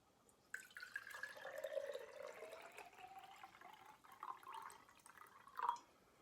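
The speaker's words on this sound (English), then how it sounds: "we're going to fill it 3/4 full, so until it's about there-ish with water" Tap water pours into a glass jar being filled about three-quarters full for a homemade lava lamp, a soft trickling fill whose tone rises as the level climbs, ending with a small splashy clink.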